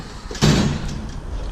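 A drawer on a Snap-on Bel Air tool box slides open with a single sharp metallic rush, then the rattle fades into a low rumble.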